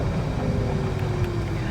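A Ferrari exhaust opens up under light throttle as the car drives, giving a continuous low engine drone with a faint rising tone, close and steady.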